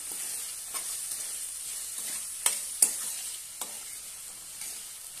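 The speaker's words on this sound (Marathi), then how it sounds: "आता आपण हे हरभरे उकडलेले घालूया। छानपैकी परतून घेऊया।" Boiled black chickpeas sizzle in a hot pan for chana pulao, a soft continuous frying hiss broken by several sharp spoon scrapes and clinks against the pan, with no one speaking.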